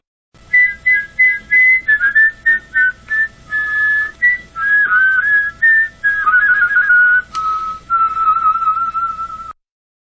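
Two whistled notes sounding together as a chord, a tone or semitone apart, in a series of short and sustained phrases, loud and close with no talking, during a whistling workshop.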